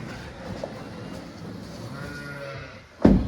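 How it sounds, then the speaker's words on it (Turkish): Twin lambs in a farm pen, with a faint, soft bleat and quiet stirring, then a single loud, close bleat near the end. "Bunlar bizim ikiz kuzularımız."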